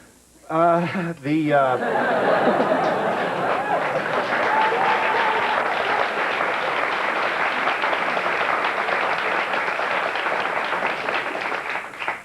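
A voice speaks briefly, then a large TV talk show studio audience breaks into sustained, loud applause mixed with cheers that continues to the end.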